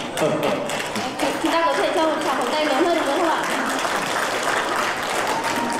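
Audience applause at a welcome reception in Korea for the Vietnamese parents of a daughter-in-law, a dense, steady wash of clapping across the whole stretch with a few louder taps and murmuring voices mixed in.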